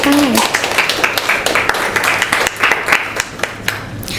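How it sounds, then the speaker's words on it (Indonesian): Audience applause at a school presentation event as a speaker is called up, steady scattered clapping from a crowd close by, with a voice talking over the start. "Ya, tepuk tangan."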